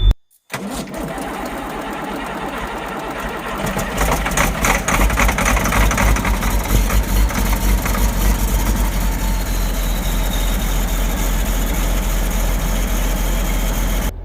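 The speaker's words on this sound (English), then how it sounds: "let's fire up the world's greatest pumpkin carving machine" A 300-horsepower pumpkin carving saw machine cranks over, catches and fires up, then settles into a loud, steady, rough-running engine roar that continues close by without pause.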